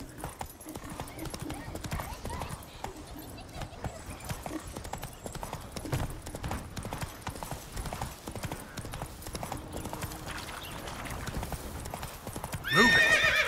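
Horse hooves clop in a steady rhythmic trot while riding in The Witcher 3, with a neigh near the end and ambient game sound underneath.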